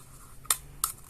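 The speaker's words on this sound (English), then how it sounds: "Forgot that you can actually use the scissors during this time" Scissors cut a plastic Yakult bottle, giving two short, sharp snips about a third of a second apart, close and fairly loud against a quiet room.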